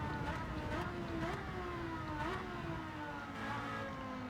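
A Porsche racing car engine in Gran Turismo 7 whines at high pitch, revving upward in repeated surges between gear shifts on the Sardegna road course, steady and loud throughout.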